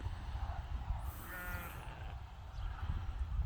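Goats bleat over a hill on a farm, one wavering bleat in the middle of the stretch above low rumbling wind noise, fairly faint and distant.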